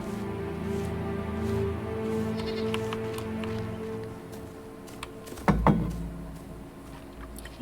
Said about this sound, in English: Goats need attention too, apparently.